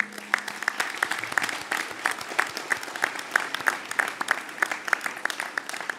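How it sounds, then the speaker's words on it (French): Audience at a mayor's New Year wishes ceremony in Lieusaint applauding, a moderate crowd of distinct hand claps, fairly close, with brief voices underneath. "nous vous applaudissons"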